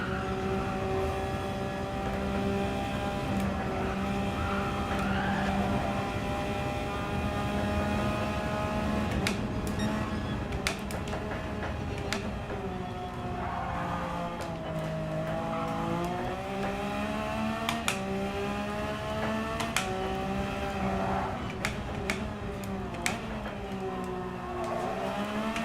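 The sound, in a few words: race car at full throttle in video game Gran Turismo 7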